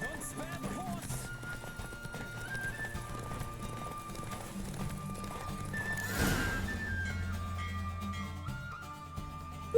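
A horse gallops in a race in The Witcher 3, its hoofbeats steady and close beneath a layer of game music, with a brief whoosh near the middle.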